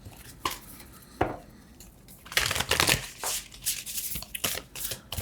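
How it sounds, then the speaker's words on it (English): Tarot cards are shuffled close by in scattered riffling bursts and papery flutters, quiet at first and then a busier, louder stretch of rapid shuffling with no talking. "let me actually shuffle."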